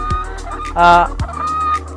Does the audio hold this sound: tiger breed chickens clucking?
yes